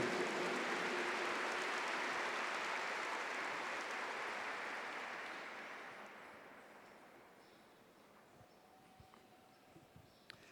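Church congregation applauding together, a dense wash of clapping that starts loud and gradually thins and fades out over about ten seconds, with a few scattered claps left at the end.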